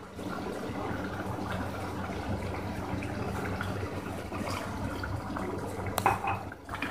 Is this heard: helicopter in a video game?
no